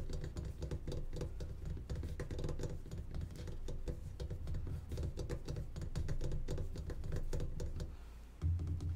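Vintage L.C. Smith and Bros. manual typewriter being typed on, a steady run of close mechanical key strikes and clacks, quiet and continuous.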